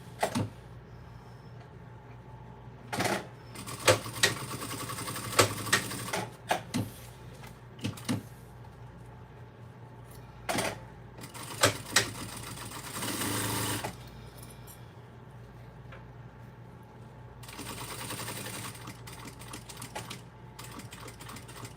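Bursts of rapid sewing machine stitching, several short runs separated by pauses, back stitching at the corners of a fabric pencil pouch with lining; fairly quiet and close, with small handling clicks between runs.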